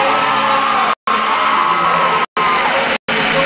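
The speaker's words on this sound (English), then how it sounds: "How they cheering for him?" A crowd at a school flash mob cheers, whoops and yells loudly in a continuous roar of mixed adult and children's voices, broken by three brief dropouts of total silence.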